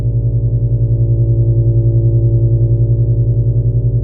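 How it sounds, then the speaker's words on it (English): A steady, buzzy overdriven Elektron Digitakt drone holds one low pitch with a gentle pulsing throb, thick and warm, playing alone without any talking. "The overdrive of the digitakt sounds really awesome."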